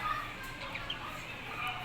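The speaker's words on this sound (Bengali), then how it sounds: "এই হচ্ছে আমাদের বাংলাদেশের দেশি মুরগি" Bangladeshi native hens clucking in a backyard enclosure, soft faint clucks and chirps over quiet background.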